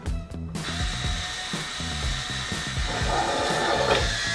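An electric automatic jar opener runs its motor to twist open a tightly sealed pasta sauce jar, producing a close, steady mechanical whir with grinding, rhythmic pulses that builds slightly over a few seconds, without talk.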